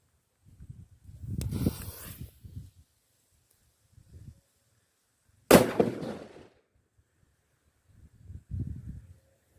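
Colorful Thunder firecracker with a black cat picture being lit, a hiss and crackle before one sharp, loud bang that rings briefly, with rustling and small movements around it outdoors.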